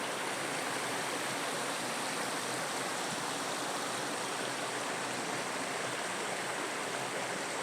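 A river rushes steadily in the high Aude valley near the Marie-Madeleine springs, a loud, unbroken broadband roar heard close by with no talking.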